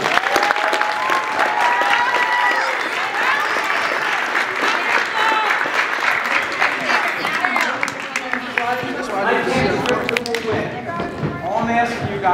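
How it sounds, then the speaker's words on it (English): A gym crowd at a boys basketball league championship applauds the teams, steady clapping mixed with crowd noise and voices throughout, loud and close. "So can I have a round of applause for these guys?"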